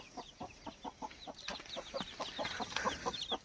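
Desi country chickens cluck at a poultry farm, a near, steady run of short rhythmic clucks and calls that grows busier toward the end.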